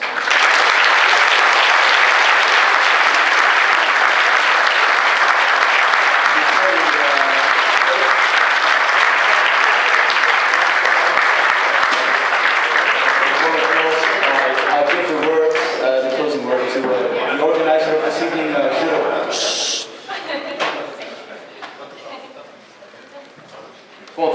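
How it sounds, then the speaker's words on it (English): An audience gives sustained, loud applause after a university debate on Europe, steady for most of the stretch and then thinning out. Chatter and voices rise through the clapping near the end. "please give them an applause"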